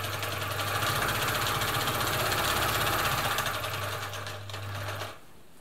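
A Husqvarna Viking Automatic 21e sewing machine stitches steadily with a fast, even mechanical chatter and motor hum, loud and close, slowing and stopping near the end.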